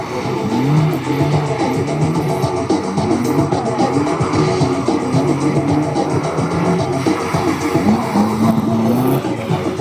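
A VAZ car engine roars and whines as tires squeal through a sharp skidding handbrake turn on wet pavement at an autoslalom, loud and close, with a brief voice underneath.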